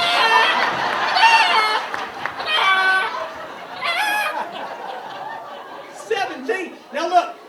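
A comedian on stage imitates a clucking chicken with his voice, giving several bursts of rhythmic, nasal clucks in a row, loud and close, with audience laughter and chatter mixed in.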